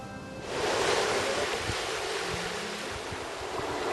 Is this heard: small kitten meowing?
no